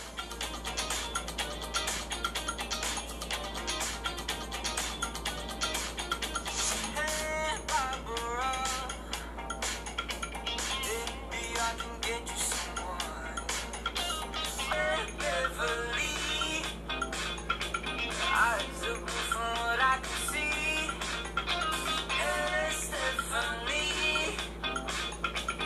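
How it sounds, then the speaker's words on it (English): Music played through the loudspeakers of a Samsung Galaxy J7 Plus and a OnePlus 5, a steady, thin, moderately quiet melody with busy rhythmic detail running throughout. "Loudspeakers on both phones also produce good quality audios, even with different speaker placements"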